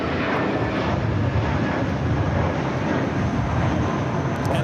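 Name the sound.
Qantas Airbus A380 on downwind leg at LAX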